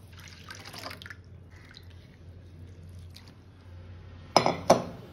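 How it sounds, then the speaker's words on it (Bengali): Moong dal lentils being washed in water by hand in a kitchen, with soft sloshing and dripping, then two short, louder splashy clinks near the end. "প্রথমেই মুগ ডালটা 4 বার ভালো করে ধুয়ে নিতে হবে, যাতে কোনো ফেনা বা কিচ্ছু না হয়।"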